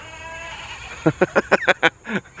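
A run of about six short, bleating calls from goats close by, evenly spaced, followed by a softer drawn-out bleat.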